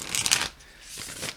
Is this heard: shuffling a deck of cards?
yes